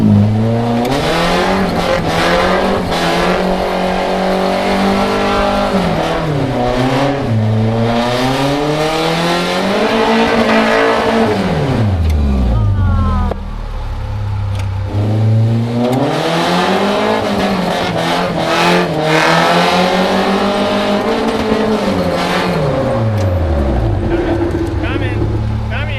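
A car drifting through figure eights, its engine loudly revving up and down in long sweeping cycles with tire squeal, close and continuous, while people talk over it.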